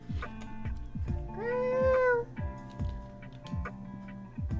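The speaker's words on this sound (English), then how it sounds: "Crazy cat." Cat meowing once, a drawn-out rising and falling meow in the middle, heard over a steady ticking clock that sounds regularly throughout.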